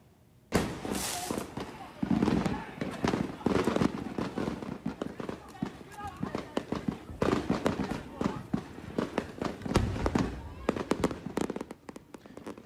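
Illegal fireworks explode in Aliamanu in a rapid, chaotic string of sharp cracks and bursts, loud and irregular, with voices talking amid the blasts.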